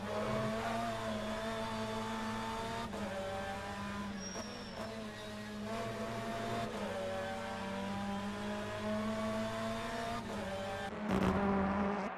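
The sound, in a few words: BMW touring race car engine on racetrack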